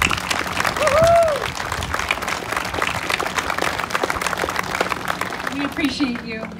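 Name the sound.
audience applause for honorary guests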